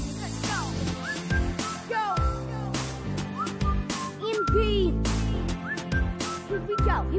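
Melodic whistling of a tune in a song, bright sliding whistled phrases repeating over a steady musical backing with drums, loud and up front.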